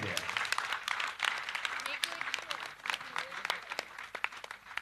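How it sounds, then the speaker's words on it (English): Audience clapping for husbands at a live Mrs. Mom 2022 contest, a moderate, uneven burst of applause with a voice talking through it. "please give a big round of applause to your husband there"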